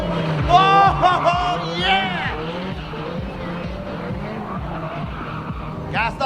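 Race car holding a long drift around a track course during a drift limbo competition round, with loud tire squeal and engine roar, a crowd or commentator's voice mixed in, and a sharp burst near the end.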